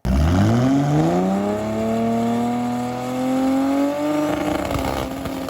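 A 2JZ-powered Toyota Supra drag car making a six-second quarter-mile pass, its engine roaring loud and close as the pitch climbs steadily through a long pull, with a crackling shift or lift near the end.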